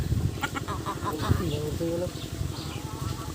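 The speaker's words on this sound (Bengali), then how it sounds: "প্রধান বাবুর্চি এখন মুরগি কাটতে আছে।" A chicken clucks in short bursts close by, with murmuring voices and an outdoor background hum, just before the bird is cut for cooking.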